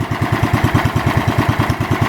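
A 1969 Wheel Horse Charger 12 garden tractor engine runs just after startup with a loud, steady, rapid thumping rhythm, close and alone with no talk.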